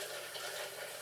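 Water poured over ice and salt in a container to chill beer, a steady, continuous hiss of running, splashing liquid at close range, moderately quiet and alone without talk.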